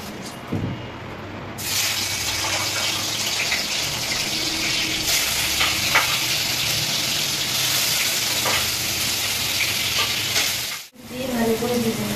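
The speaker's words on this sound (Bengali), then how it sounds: "এখন সোয়াবিনটা ভেজে নেবো ভালো করে।" Soybeans frying in a pan, a loud continuous sizzle that starts abruptly, with occasional stirring scrapes and a brief dropout near the end.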